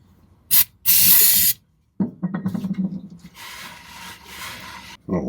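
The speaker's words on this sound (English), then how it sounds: "So, a little carb cleaner." Carb cleaner sprayed from an aerosol can onto the fuel gauge sender mounting surface of an M813 military 5-ton truck: a short hiss, then a longer loud spray, followed by rubbing and scraping and another softer extended spray.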